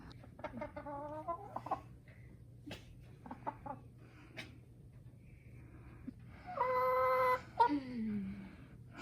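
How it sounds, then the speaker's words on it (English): Chickens clucking and cackling close by in a hen house in irregular bursts, with a longer drawn-out squawk near the end over a low steady fan hum. "Okay, I did check on the chickens in the hen house"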